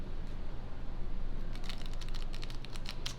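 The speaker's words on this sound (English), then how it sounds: "let's give it one more shuffle" Tarot cards shuffled by hand, a run of quick crisp riffling clicks in the second half over a low steady background hum, close and fairly light, with no talking.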